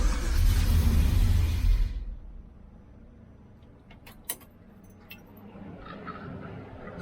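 A Holden HQ with a swapped LS1 V8 cranks and tries to start, a loud, rough churning roar for about two seconds that cuts off into quiet, with a few faint clicks and jingles afterward.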